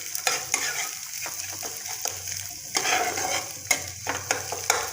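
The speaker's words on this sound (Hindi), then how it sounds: "पैन में थोड़ी सी तेल डाली हूँ और एक अंडे को मैं इसी तरह से फ्राई कर ले रही हूँ" Egg scrambling in a little oil in a pan, a steady sizzle and frying hiss under repeated scraping stirs of a spatula, close and fairly loud, with no talking.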